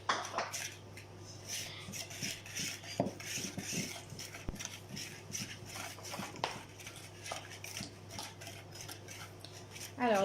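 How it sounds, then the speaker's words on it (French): Chocolate cake batter being mixed in a bowl, with a utensil scraping and clinking against the sides in steady, close stirring strokes, a faint voice now and then underneath. "Et maintenant, tu peux mélanger."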